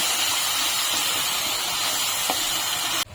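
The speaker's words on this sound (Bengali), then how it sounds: "এখন আমি মশলাটাকে ভালো করে কষিয়ে নেব।" Spice paste sizzles while being sautéed for a Shivaratri sabudana khichuri, a steady close hiss that runs unbroken and ends in a sharp clatter at the very end.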